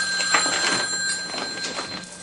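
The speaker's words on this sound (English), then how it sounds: "Oh, phone is ringing, phone is ringing." A telephone rings steadily in a home, its bell sounding in a continuous bright tone for a couple of seconds, fairly close and alone with no voices over it.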